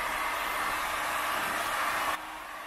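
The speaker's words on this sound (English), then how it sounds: "So we've got the hot air gun. Let's get it warmed up and dried out." A hot air gun blows steadily while drying the rear vent area in the boot of a Ford Focus, a loud, close, broadband whooshing roar that drops slightly in level near the end.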